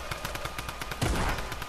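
Rapid automatic gunfire in Fortnite, a steady stream of close, evenly spaced shots that swells louder partway through.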